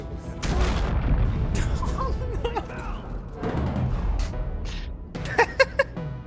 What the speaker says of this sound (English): This one makes you able to grenade jump.